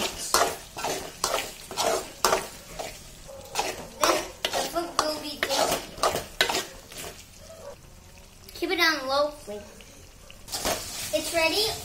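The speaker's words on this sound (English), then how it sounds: "Mix it well. Try to fry it deeply" Vegetables for a Kerala vegetable biryani stirred and fried in a pan, with repeated rhythmic scraping and clinking of a spoon against the pan over a soft sizzle, and voices talking briefly partway through.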